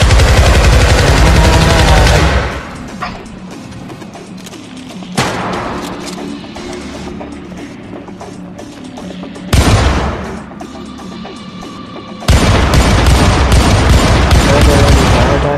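Pistol gunfire in the shooter game Syndicate, heard as loud sustained bursts of shooting that break off into quieter gaps, then return in dense stretches; no speech over it.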